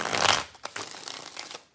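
A deck of tarot cards is shuffled in one quick riffle burst, followed by softer papery crackles as the cards settle, close and alone.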